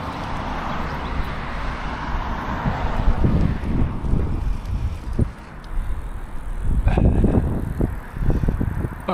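Wind buffets the microphone of a moving bicycle, producing a constant loud roar with gusty low rumbles throughout, and no talking.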